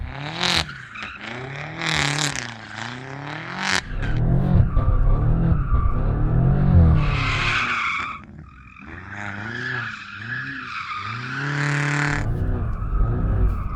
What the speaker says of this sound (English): Let's do some skids.